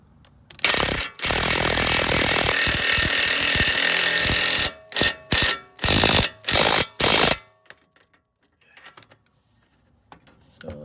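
A ratchet tightens strut bolts on a BMW E90 325xi, a long rapid clicking burst followed by several short close cranking bursts, then near silence with faint clinks.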